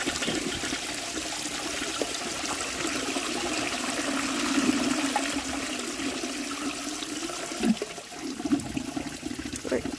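A 1905 forward trap toilet flushes with a steady rushing wash of water, loud and close, settling into trickling refill near the end.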